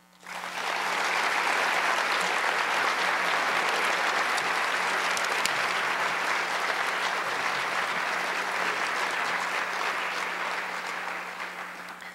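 Sustained audience applause welcoming Dr. Jane Winer at a university conference, dense clapping from a large crowd that starts abruptly, holds steady for about eleven seconds and tapers slightly at the end, with no talking.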